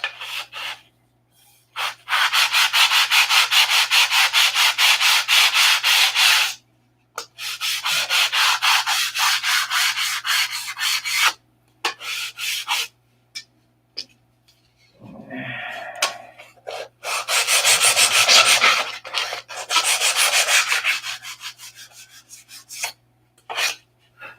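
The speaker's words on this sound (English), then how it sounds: "Yep, that is a long sanding bar. 30-inch." Long, rhythmic rasping strokes of a 30-inch sanding bar scrape back and forth, close and loud, broken by a few short pauses, with a brief muffled voice midway.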